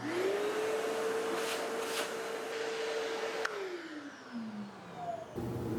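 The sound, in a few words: dust extractor running steadily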